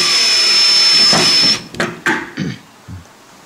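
A cordless power tool tightens a fitting at low torque during a DIY kitchen install: a loud, steady whirring burst for about a second and a half, followed by several short pulses of the motor, close up.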